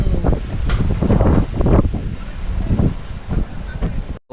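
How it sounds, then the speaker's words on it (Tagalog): Strong waves on Taal Lake roar in a loud, continuous broadband wash, mixed with heavy wind buffeting the microphone, with surges and swells rising and falling throughout. "Malakas ang alon."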